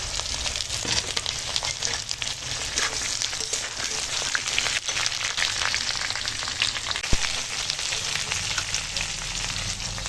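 Drumstick stalks and potato fry in oil in a pan along with papaya, onion and green chilli, a loud, even sizzle with crackling pops and occasional stirring, close and uninterrupted by speech.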